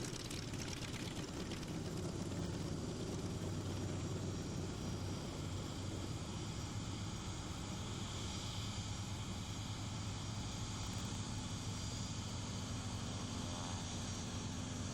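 World War II warbird aircraft at a 1994 New England air show drone on steadily with engine and propeller noise, a continuous broad roar lasting the whole stretch without speech.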